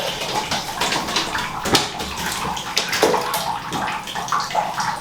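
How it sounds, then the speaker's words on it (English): An Asian water monitor lizard swims in a tub of water, producing repeated splashes and sloshing bursts with trickling in between, close and irregular. "we let the Asian water monitor come swim"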